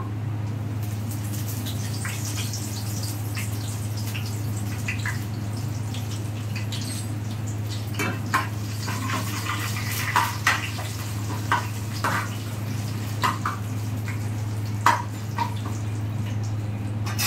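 Chana dal, mustard seeds, urad dal, cumin, dried red chillies and curry leaves fry in oil for raw mango pulihora, a steady soft sizzle with occasional sharp pops and light spoon scrapes, close and even throughout, no voices.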